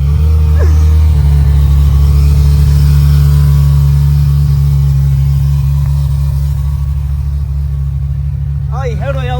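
A Ferrari engine holds a loud, steady low rumble throughout, with a brief shift in pitch early on, and a voice comes in near the end.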